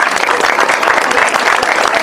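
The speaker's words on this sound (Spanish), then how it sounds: "un fuerte aplauso para ellos." A crowd at an end-of-year party applauds loudly and continuously, a dense wash of many hands clapping close by, with a few faint voices mixed into the noise.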